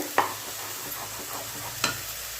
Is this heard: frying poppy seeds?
yes